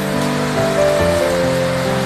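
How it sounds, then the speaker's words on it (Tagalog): Steady, dense rain patters on surfaces outside a home during a typhoon, a continuous close wash of drops with faint tonal hums beneath. "umuulan pa ngayon dito. may bagyo."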